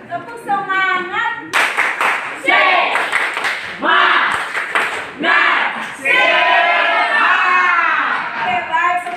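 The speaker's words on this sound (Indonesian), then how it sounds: "Sekali lagi yang di belakang, ayo lebih semangat. Dapat. Tepuk semangat." Classroom of children performing a rhythmic group clapping chant, loud bursts of synchronized claps mixed with shouted chanting voices, close and energetic, with a teacher's voice leading between rounds.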